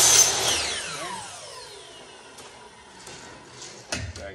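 A saw cuts a small piece off a window screen frame: a sharp initial rasp of cutting that fades into ringing and a few light knocks and clatters afterward, close by.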